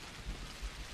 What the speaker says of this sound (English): That rain gets really loud.